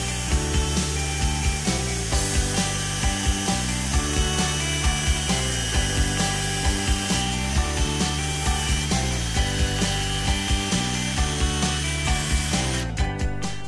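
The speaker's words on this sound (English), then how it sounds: "it's time to drill a pilot hole. This pilot hole goes through one cabinet and all the way into the other." A power drill bores a pilot hole through joined wooden RTA cabinets, its steady whine running close and continuous with rhythmic bit chatter and a brief harder grind near the end.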